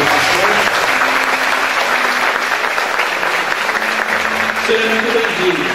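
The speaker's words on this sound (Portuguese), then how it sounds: "Vamos dar uma salva de palmas pela vida do pastor." An audience at a church service applauds the pastor in a steady, loud wash of clapping that fills the whole stretch, with faint voices mixed in underneath.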